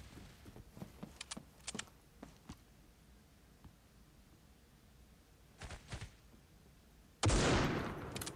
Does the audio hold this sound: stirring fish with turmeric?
no